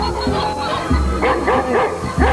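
A dog yips and whimpers in a short series of high, bouncing calls over steady background noise, nearby and fairly loud.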